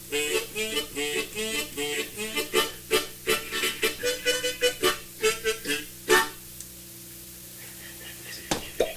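A harmonica plays a lively run of short, punchy chords and notes, then pauses and ends with a few soft, sparse notes.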